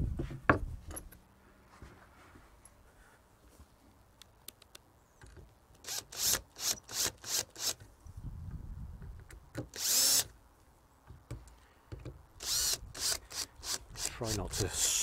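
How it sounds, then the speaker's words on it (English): A power drill drives screws into wood while building a DIY bow tillering tree, giving a series of short buzzing bursts with a pause midway, fairly close, with faint handling noise between. "So let's start getting some screws in."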